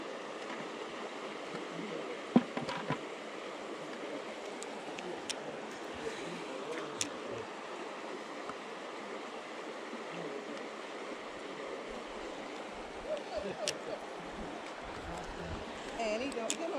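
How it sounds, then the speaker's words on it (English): Small stocked brook trout stream flowing steadily, a continuous broadband water rush at moderate level throughout, with a few brief clicks and knocks on top. "Today we're down here at the brook trout stream they have just stocked"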